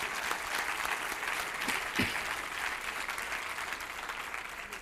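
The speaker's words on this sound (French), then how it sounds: "je pense qu'on peut les applaudir" A church congregation applauds its pastoral leadership team, a steady, moderately distant patter of clapping that holds for about five seconds with a faint murmur of voices underneath.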